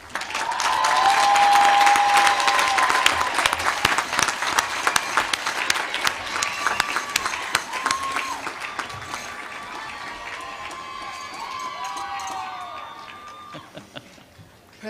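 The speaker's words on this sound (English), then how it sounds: "Please join me in applauding all of these graduates." Audience applauding graduates at a university commencement, a long sustained clapping wash with scattered cheers and whoops, loudest early and gradually easing off toward the end.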